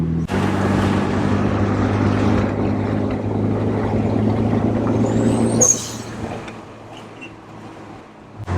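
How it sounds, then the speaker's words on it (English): An HKS blow-off valve on a Mitsubishi Evo 9 MR: a loud, droning engine rumble, then a sharp whooshing release near the end as revs drop, followed by a quieter idle. "I'll give you guys a little bit more blow-off valve sound so you guys can hear it."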